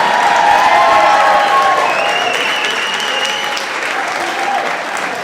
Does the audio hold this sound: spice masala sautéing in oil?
no